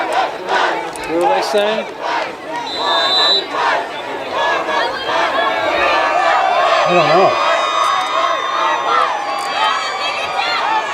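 A large football stadium crowd roars and chants together in a sustained, loud swell of voices, with nearby people talking briefly over the din.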